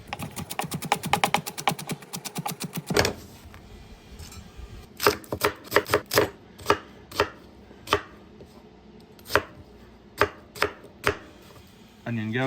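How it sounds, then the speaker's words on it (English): Knife roughly chopping vegetables, onion among them, on a cutting board while prepping smoked leg of lamb: a fast run of close, sharp chops, then slower, spaced single chops with a pause near the end. "So a rough chop"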